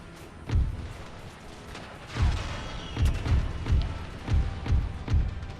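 Grenades and artillery in an Empire: Total War battle: a run of heavy, booming thuds, one isolated blast followed by a quick cluster of about six more, loud over a continuous rumbling battlefield din, with no talking.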